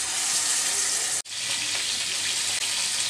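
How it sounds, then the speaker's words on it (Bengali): Seasoned whole tilapia sizzles loudly in a pan of hot oil, a steady close crackle that drops out for an instant partway through before resuming. "এবার মাখানো মাছ আমি তেলের মধ্যে দিয়ে দিচ্ছি"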